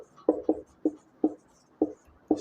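Chalk or marker strokes on a board during a soil mechanics lecture: six short, crisp taps and scratches at an uneven, steady pace, close and clear with no talking over them.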